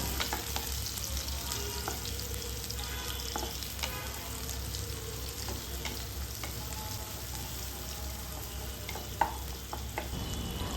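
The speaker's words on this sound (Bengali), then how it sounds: "পেঁয়াজটাকে হালকা একটু ভেজে নেব" Chopped onion frying in oil with nigella seeds, a steady soft sizzle running throughout with occasional faint stirring scrapes and clicks, moderately quiet and close, no voices.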